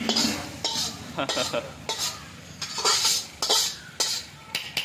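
A spicy mixture goes into hot oil for a Bihari-style meat curry in a hotel kitchen, with rhythmic stirring and the scrape and clink of a metal ladle against the pot over a light sizzle, close and busy.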